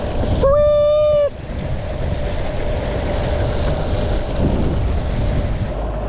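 Strong wind roars steadily across the microphone aboard a small boat running a NewPort NT300 electric outboard, with water noise beneath and a brief high whistle-like tone near the start.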